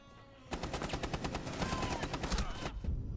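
Rapid automatic gunfire in Rainbow Six Siege, a loud sustained burst of closely spaced shots rattling for a couple of seconds, with brief quiet before and after.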